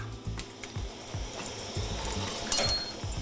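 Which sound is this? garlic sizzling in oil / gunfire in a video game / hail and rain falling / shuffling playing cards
garlic sizzling in oil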